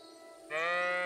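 A sheep in the game Kingdom Come: Deliverance II lets out a single loud, close bleat that starts halfway through, sustained and wavering with a bright, buzzy tone.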